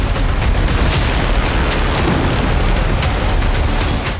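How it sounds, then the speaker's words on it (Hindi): Loud, continuous roar of a blast from a Shahed-136 drone attack in Dubai, a dense rumbling wash with sharp crackling bursts throughout, heard at a distance with no voices. "विस्फोट इतना जोरदार था कि कई किलोमीटर दूर तक उसकी आवाज सुनाई दी"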